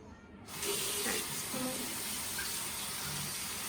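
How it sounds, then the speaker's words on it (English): Tap water runs steadily into a sink for handwashing, a constant hiss that switches on abruptly and continues evenly. "First, you on the tap and put your hands inside the water."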